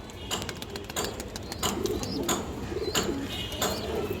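Old-line green-necked and black-necked pigeons coo softly in a low repeated murmur, with occasional sharp chirps and brief wing flutters mixed in.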